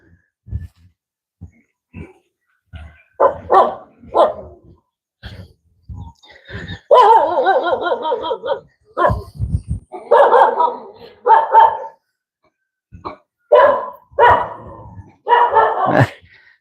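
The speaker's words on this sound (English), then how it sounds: "There's a bunch of stray dogs here." Several stray dogs bark outdoors in scattered, overlapping bursts, some rough and rapid, some lone yaps, near and loud with quiet gaps between.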